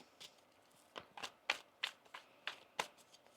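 Tarot cards are shuffled quietly in a few quick riffling bursts, soft flicks and taps spaced irregularly, close and alone.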